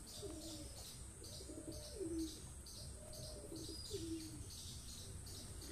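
A pair of very old pet pigeons coo in a steady, repeated rhythm of low, rolling calls, close and clear over a constant background hiss, with faint chirps behind them.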